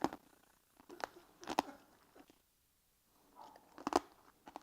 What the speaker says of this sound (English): let's hear the crunch